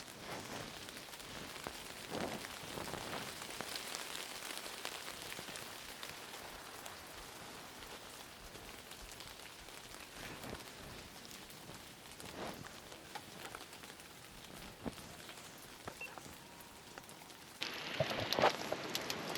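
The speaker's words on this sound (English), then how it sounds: "Nice big shower coming through, actually." Steady broadband patter of heavy rain drumming on a camping tarp overhead, continuous and close, with a few louder drips and a brief shuffle near the end; stormy, windy conditions.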